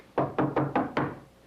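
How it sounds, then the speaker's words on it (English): Five firm knocks on a door, a radio comedy sound effect, land in an even rhythm. They are close and clear with no talk over them. "Well, let's knock."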